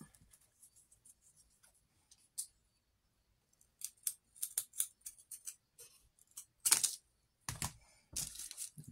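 Scissors snip through paper while a tree fairy house is being built, starting with a few faint isolated snips, then turning into a quick irregular series of crisp close cuts with rustling paper.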